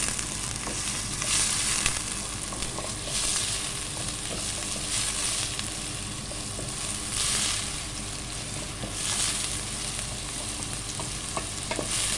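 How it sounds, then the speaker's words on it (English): Onions or aromatics sautéing in a pan over a raised flame while cooking spinach sambar, a steady close sizzle with periodic scraping stirs throughout, no talk. "Increase the flame. Just saute it until it translucent."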